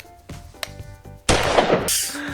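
Gunfire in an online multiplayer dinosaur game during a sniping attempt: a few faint cracks early, then a loud sustained burst of shots and noisy rattle from the midpoint onward, close and dense, with no talk over it.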